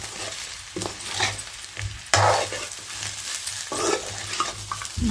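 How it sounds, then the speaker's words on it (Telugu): Chicken pieces being stirred with homemade chili powder in a frying pan, Andhra-style chicken fry, giving repeated scraping stir strokes over a steady sizzle, close and fairly loud. "2 టేబుల్ స్పూన్లు కారం కూడా వేసి మొత్తం ముక్కలన్నీ ఇలా కలుపుకున్నాము."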